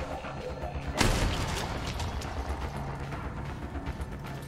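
One loud blast from a first-person shooter's shotgun in Nightmare Reaper, a sharp boom with a short decaying tail, then quieter rumbling game ambience.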